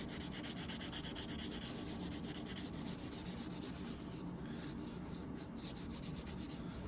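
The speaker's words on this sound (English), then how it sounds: "You've got to take sandpaper and wet sand it" Sandpaper is rubbed steadily back and forth along an edge in wet sanding, a continuous close, fairly quiet scratchy friction with a fast, even rhythm and no voices.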